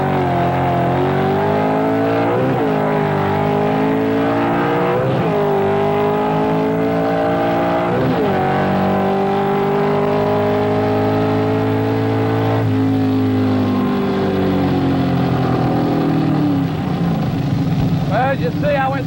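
A 1970 Ford super stock drag car roars down the quarter-mile strip, its engine climbing through several loud rising revs with shifts between them, heard from inside the car with a voice talking over it.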